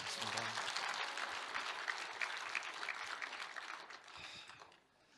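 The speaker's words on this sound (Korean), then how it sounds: "큰 박수로 환영해" An audience at a patriotic gathering applauds to welcome a professor to the podium, loud continuous clapping that thins and fades away toward the end.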